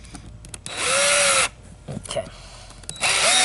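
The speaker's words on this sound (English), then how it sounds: "you want to make sure you drill a pilot hole" A power drill boring a pilot hole into a wooden piece for a zigzag spring repair bracket, two loud whining bursts of the motor separated by quieter handling noise, with a brief spoken word in between.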